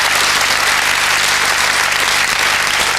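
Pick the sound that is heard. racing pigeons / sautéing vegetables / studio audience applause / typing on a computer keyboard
studio audience applause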